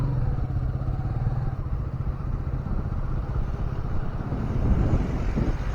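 A motorcycle engine drones steadily throughout with wind buffeting the microphone, swelling slightly toward the end as it passes close on a forest safari road in the Bandipur–Mudumalai area.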